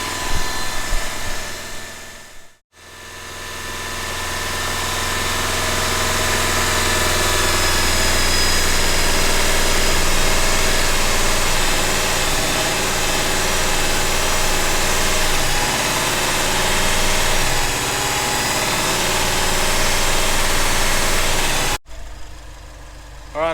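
A 2019 Subaru WRX STI engine runs steadily with its revs held up, a continuous close mid-pitched drone with a brief drop near the start and a cut-off near the end.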